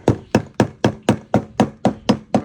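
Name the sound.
scraper knocking hard residue loose on fuel pump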